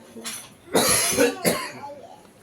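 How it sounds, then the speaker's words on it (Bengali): A child with a cold coughs in a few short, close bursts, two main harsh coughs spaced under a second apart, with quiet between them. "একদম ঠান্ডা লেগে কাশি হয়ে গেছে"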